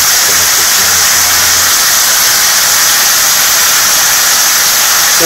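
Rice cakes frying in olive oil with chicken galbi in a pan give a loud, steady, dense sizzle that holds evenly throughout, close up with no talking.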